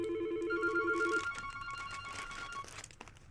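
An incoming call sets a phone ringing during a livestream: a repeating electronic ringtone of pulsing beeps, moderately quiet and unaccompanied by speech, before it cuts off.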